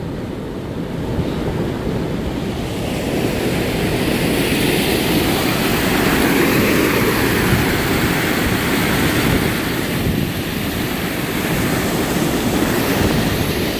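Water rushing out of a lake runoff channel after ice-out in Janesville, Minnesota, a steady broad roar like surf and wind that stays loud and constant throughout, with no voices.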